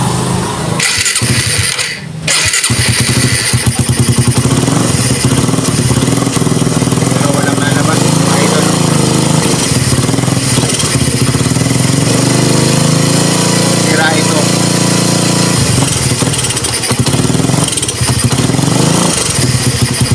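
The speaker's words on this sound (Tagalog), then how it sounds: "Ayan, buhay ang makina." A Suzuki Raider 150 motorcycle with a rough, snoring-type idle problem runs close up, its engine chugging loudly and continuously for about twenty seconds with a brief dip early on.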